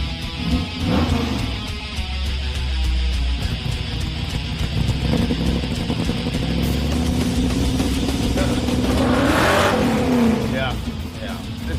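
A modified muscle truck's engine revs up and down, climbing sharply in pitch late on, with a voice heard over it.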